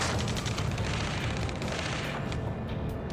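Sustained, loud, dense gunfire and booming impacts in Ace Combat 7, a flight combat game, form a constant roar of rapid shots with no pauses.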